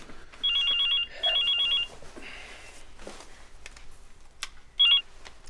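A telephone rings with two bursts of electronic trilling close by, followed by a quiet pause with faint household movement and then a short final chirp of the ring.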